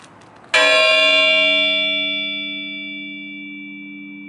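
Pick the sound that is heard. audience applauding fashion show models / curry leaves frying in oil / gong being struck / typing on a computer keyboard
gong being struck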